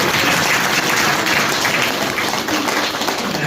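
Steady audience applause from a crowd at a spiritual or motivational gathering, a dense continuous wash of many hands clapping at full volume throughout, with no pauses.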